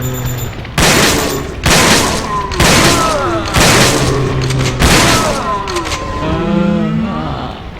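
Heavy weapon fire in Resident Evil: Dead Aim, five loud booming blasts in a steady rhythm about one second apart, each followed by a rumbling tail, ending in quieter mechanical noise.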